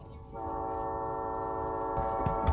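A train closes in on an RV parked across railway tracks in the action movie Sabotage, its horn blaring a sustained chord-like blast over rumbling wheels and clattering noise, with a few brief thumps near the end.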